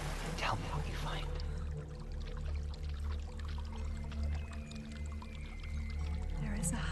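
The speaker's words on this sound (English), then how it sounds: "There's a waterfall." Steady roar of a waterfall in Hellblade: Senua's Sacrifice, a broad constant wash of falling water that holds evenly throughout, with faint voices murmuring over it.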